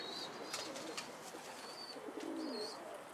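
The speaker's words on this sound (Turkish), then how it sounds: "Güzel tatlı bir kuş. İsmi var bunun da." Soft pigeon coos drift through faint outdoor background noise, low and quiet, with a few light chirps in between.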